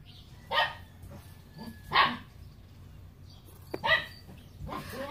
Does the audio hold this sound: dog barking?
yes